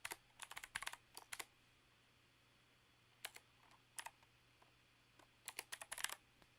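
A username and password are typed on a computer keyboard in short quiet bursts of rapid key clicks separated by pauses, close by in an otherwise still room.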